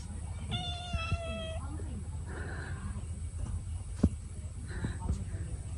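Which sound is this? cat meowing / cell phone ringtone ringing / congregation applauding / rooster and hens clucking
cat meowing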